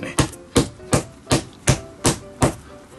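Regular tapping on a Mizuno baseball glove while glove grease is worked in, about seven evenly spaced sharp knocks roughly every 0.4 seconds, close and clear with no talking.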